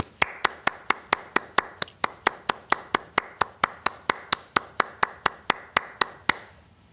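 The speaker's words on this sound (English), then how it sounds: "Everyone, please join me in offering them a warm round of applause." Steady, evenly spaced claps ring out about three times a second for over six seconds at a virtual college commencement for the class of 2021, each one crisp and close before stopping abruptly.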